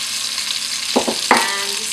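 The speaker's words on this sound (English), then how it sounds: "And just give them a stir to toast them a little bit in the lovely oil" Red lentils sizzling in hot oil while being stirred with a spoon, a steady close frying hiss broken by two short scraping stirs in the pan.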